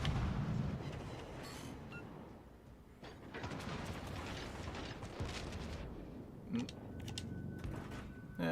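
Warship guns firing armour-piercing shells in the naval battle game World of Warships: Legends, heavy rumbling salvos with mechanical clatter, booming in and out over a dense, noisy battle background.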